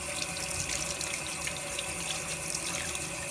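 Tap water runs steadily over a freshly cleaned trout at a sink, a continuous close splashing rinse with no talking.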